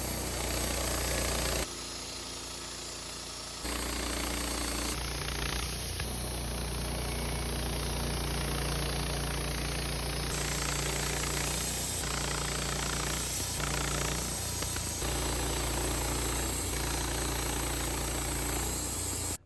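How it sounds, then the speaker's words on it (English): A sawmill runs steadily while cutting beams and cribbing from a dead tree, a loud continuous engine drone with a buzzing saw tone that shifts slightly in pitch as the cut progresses, with no talking. "So let's go to the sawmill and make some."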